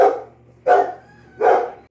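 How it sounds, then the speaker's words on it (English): Dogs barking outdoors, three loud, separate barks at a steady pace, close and clear with no talking. "The dogs are barking."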